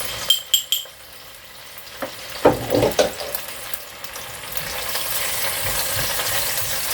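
Garlic and ginger paste sizzles and fries in a hot pan over medium heat for a Rogan Josh, with a few sharp clatters of utensils near the start and a steady crackling hiss building toward the end.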